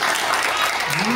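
A party crowd at a birthday celebration claps together to vote for a contestant named Christian, a dense burst of applause mixed with voices and cheering, loud and close, lasting only a moment.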